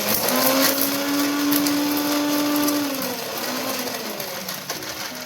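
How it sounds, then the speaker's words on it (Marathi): A mixer grinder runs steadily, grinding roasted coconut and whole spices with a loud, continuous motor whine whose pitch dips slightly partway through as the load shifts. "भाजून घेतलेलं सर्व सामान आपण मिक्सरच्या भांड्यामध्ये बारीक करून घेऊयात. सर्वप्रथम खोबरे, खडे मसाले बारीक करून घेऊयात,"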